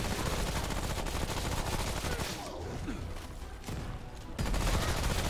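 Rapid rattling bursts of enemy gunfire from a rattling gunner in Remnant: From the Ashes, dense and loud, dipping briefly mid-way before surging again.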